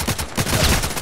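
RPK machine gun in the shooter game Contract Wars, a short loud burst of rapid shots in quick succession, close and alone.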